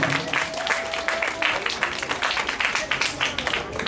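An audience at a music programme commemorating Puttaraj Gavai applauds to welcome the chief guest, a film actress: dense, continuous clapping from a crowd, loud and sustained throughout with no break.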